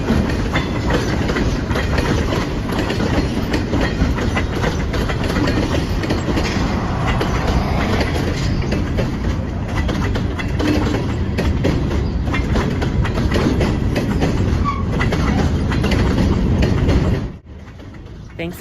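A model train of ex-Canadian National cars rolls along street trackage on a layout, a steady close rumble and clatter that runs continuously for about seventeen seconds before cutting off abruptly.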